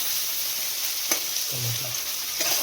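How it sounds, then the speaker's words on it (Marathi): Tomatoes frying with full masala in a pan for shev bhaji, a steady near sizzle with a soft scrape or stir and a brief low bubble partway through. "आता टमाटर एकदम भाजीपर्यंत, एकदम त्याला मस्त कलर येईपर्यंत आपण भाजणार आहोत पूर्ण मसाला"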